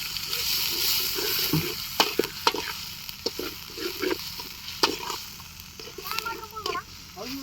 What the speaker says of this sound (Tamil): இஞ்சி பூண்டு பேஸ்ட் போட்டுடலாம்பா நல்லா கிண்டுக்கும்பா